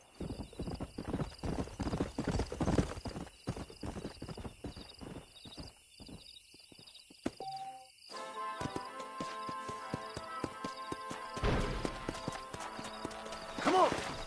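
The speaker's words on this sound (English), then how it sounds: "why don't you keep that stallion as your own" Stallion's hooves clip-clopping in the video game Red Dead Redemption, a steady close rhythmic trot with a whinny, alongside game music and background voices.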